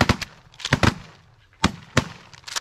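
Roughly six sharp shotgun reports crack out in rapid, uneven succession during a mallard duck hunt outdoors, loud and close, with a brief lull between the volleys.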